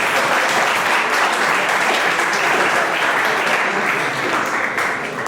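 Audience applause at a Startup Africa Day innovators event, loud dense clapping sustained from start to finish, easing slightly toward the end.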